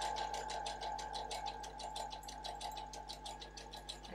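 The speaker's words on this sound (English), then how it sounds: "Just let the machine do what it needs to do, which is zigzag, and keep them in place." A sewing machine runs a zigzag stitch over wool cord using a cording foot, giving a steady, rapid mechanical clatter with an even pulse and a constant motor hum, close and continuous, with no talking.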